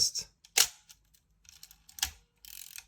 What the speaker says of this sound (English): the shutter just is so crisp.